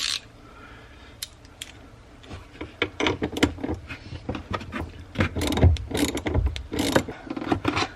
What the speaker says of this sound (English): We just need to disconnect the negative battery terminal, which is here in the trunk.